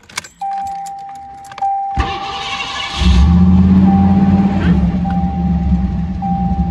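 Car with a battery charger connected, sitting unused for a long time: keys jingle and an accessory chime rings, then the starter cranks and the engine catches into a loud, steady idle that keeps running.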